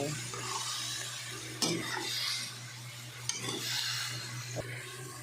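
String beans go into a frying pan and get stirred, making soft scraping and rustling with a light sizzle, a few sharp utensil knocks and a low steady hum underneath, with no talking.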